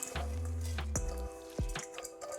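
Washed, soaked masoor dal is tipped into a pan, giving wet squishing plops and drips in a few distinct bursts over about two seconds, close and without talk.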